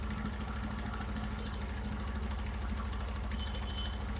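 A motorcycle engine runs at high RPM while its carburetor is being adjusted, giving a steady, continuous, close drone with an even pulse and no break or change in pitch.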